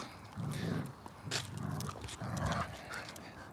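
A dog growls playfully while tugging on a leash, three rumbling growl bursts in a rhythmic series, close and moderately loud.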